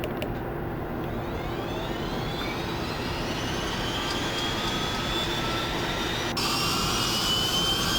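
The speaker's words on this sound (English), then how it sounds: "Engine 1 good. Start engine 2. And we're getting ready to spool up." Bell 412 helicopter engines starting up in the Prepar3D flight simulator, a loud steady turbine whine and roar with a rising high tone as the engines spool up, a sharp shift near the end.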